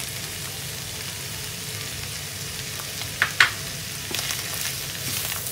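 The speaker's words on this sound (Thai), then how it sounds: "ผัดทุกอย่างให้เข้ากันเลยนะคะ" Minced beef with bamboo shoots and kaffir lime leaves stir-frying in a pan, a steady close sizzle with a couple of sharp utensil clinks against the pan and scraping stirs near the end.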